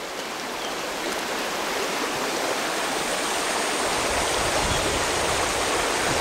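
River water rushes continuously through the Dominican countryside around San José de las Matas, a loud close broadband flow that holds steady and swells slightly toward the end.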